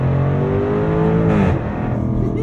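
A 2024 Jaguar F-Type R75 in manual mode snarls close and loud, its engine note rising and sweeping upward mid-clip, then easing back.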